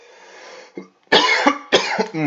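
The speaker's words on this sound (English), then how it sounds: "Pardon me, I'm coughing for some reason." A person coughs several times close up, harsh repeated bursts after a quiet stretch of low background noise.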